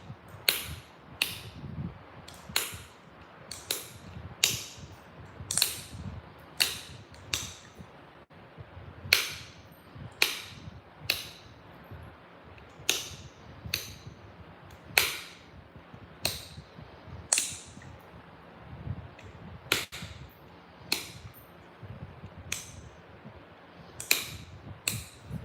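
Pressure flaking of stone in flintknapping: sharp, isolated clicks and snaps spaced a second or two apart over a quiet, faintly rustling background, close and crisp.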